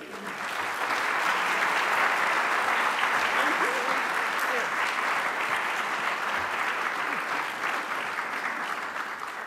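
Audience applause in a lecture hall welcoming lawyer Carolyn Lamm at Buffalo State, a full, sustained wash of clapping from a sizable crowd, steady and loud throughout.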